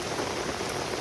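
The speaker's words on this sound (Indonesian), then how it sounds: "Karena hujan yang semakin deras" Heavy rain pounds steadily on a camping tent on a mountain slope, a dense continuous hiss of drops with no pauses or voices.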